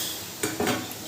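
Lentils for a Bengali sour mango masoor dal tipped into hot oil with mustard seeds and dried chillies, a soft close sizzle broken by two quick scraping stirs of a spoon against the pan.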